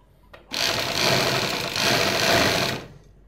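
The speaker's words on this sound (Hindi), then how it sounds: "फिर आप इसके ऊपर एक सिलाई लगाएंगे" A sewing machine stitching a kurti neckline runs in one steady, close whirring burst of about two seconds, starting and stopping abruptly with no talk over it.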